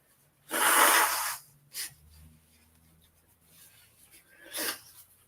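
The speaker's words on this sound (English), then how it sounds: "I've got to blow my nose" A loud, forceful nose blow lasting about a second, followed by a short sniff and later another blowing burst, close to the microphone.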